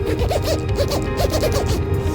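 Zipper on a chef jacket being worked repeatedly, a steady run of close, loud rasping zips over about two seconds.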